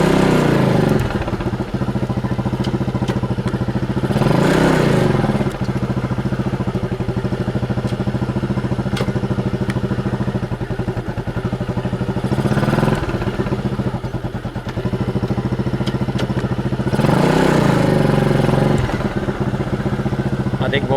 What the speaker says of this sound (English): Now if I take off with a rush, we'll know the clutch isn't working.